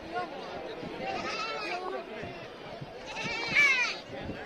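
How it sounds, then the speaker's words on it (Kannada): Sheep bleat repeatedly amid a crowd of voices chatting nearby at a sheep and goat market in Haveri, Karnataka, a busy, noisy outdoor scene with the bleats rising above the talk. "ಈಗ ನಿಮ್ಗೆ ಕುರಿ ತೋರಿಸ್ತೀನಿ ಬರ್ರಿ ಇಲ್ಲಿ"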